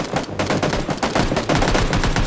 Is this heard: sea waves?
no